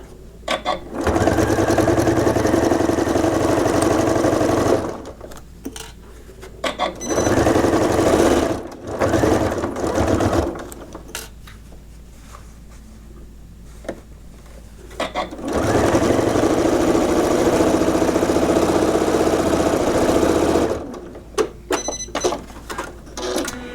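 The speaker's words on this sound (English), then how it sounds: "we're just going to sew all the way down there 1/4 inch from where we stopped to where we started" A sewing machine stitches a quilt binding seam in long, loud, steady runs separated by short pauses, close by, with little else heard.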